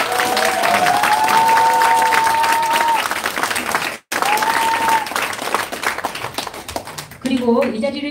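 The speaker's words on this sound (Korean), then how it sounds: "다시 한번 큰 박수 부탁드리겠습니다" A crowd at a political campaign launch event in Hanam applauds loudly and continuously, the dense clapping briefly cut off mid-way, with background music tones and some voices mixed in.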